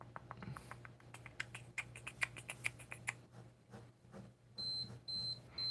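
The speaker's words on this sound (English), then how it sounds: "Oh, there's the timer." A timer beeps in three short, evenly spaced high tones near the end, after a run of soft clicking and tapping sounds.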